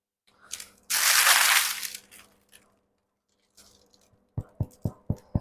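Knuckles rap five times in quick succession on the crust of a freshly baked gluten-free sourdough baguette, each knock short and hollow-sounding, following a burst of crinkling and rustling.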